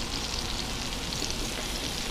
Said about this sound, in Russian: Котлеты мои жарятся.